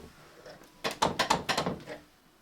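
Someone tries a locked door at a lodge on the Everest trek, a quick burst of about eight sharp rattling knocks and clunks of the handle and frame, close and loud, then quiet.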